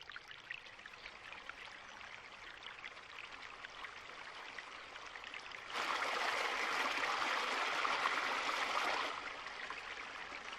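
Spring-fed stream in the Alpujarra flowing with a steady watery rush that grows louder and brighter for a few seconds in the middle, then settles back.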